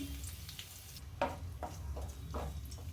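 Finely chopped garlic and ginger sizzling in hot oil in a pan for Schezwan veg fried rice, a soft steady frying hiss with a few stirring scrapes, close and quiet, with no speech.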